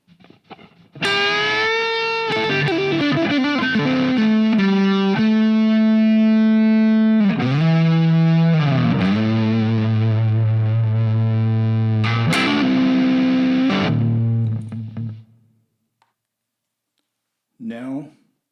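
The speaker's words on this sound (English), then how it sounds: "we're going to use fairly heavy distortion, and we're going to go with the neck humbucker first" An electric guitar played through heavy distortion on the neck humbucker rings out in loud sustained chords and bends, with notes changing every few seconds. It cuts off near the end and a brief voice follows.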